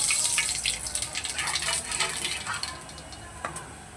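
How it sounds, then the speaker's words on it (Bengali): Black cumin seeds sizzling in hot oil left from frying fish, a close hissing crackle with a few stirring scrapes, fading slightly toward the end. "মাছ ভাজাটা তুলে নেওয়ার পর পড়বে দিয়ে দিচ্ছি একটু কালো জিরে"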